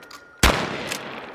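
A shotgun at a tactical shotgun class fires one sharp, loud blast that hangs in a long, rumbling echo, with no voices over it.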